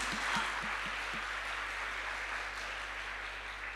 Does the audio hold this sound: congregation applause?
yes